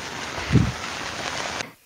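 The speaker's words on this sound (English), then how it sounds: "it's like rain just like coming down inside" Rain dripping inside a tent, heard as a steady, close hiss of drops with one brief louder thump before the sound cuts off abruptly, with no talking.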